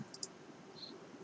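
A computer mouse clicks faintly on a Windows 10 PC during software setup: two quick clicks close together, then a single softer click, over a low room hiss.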